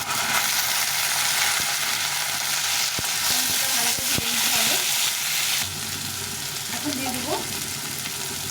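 Egg and tomato fry in a pan with a strong, continuous sizzle, broken by scraping spatula strokes and a few sharp clacks against the pan. The sizzle drops a little in level partway through.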